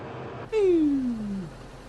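A short game sound effect of a character jumping out of a crane in Construction Simulator 2015 opens with a sudden onset, then a single falling whine that slides down in pitch and fades within about a second.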